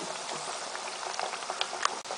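Mathri dough snacks deep-frying in hot oil until golden, giving a steady dense bubbling hiss with small crackling pops scattered throughout, close and moderately loud.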